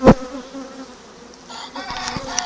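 Honey bees crawling over a caged queen give a low, steady buzz close by, after a sharp knock at the start, with faint clicks and a distant rooster-like call near the end.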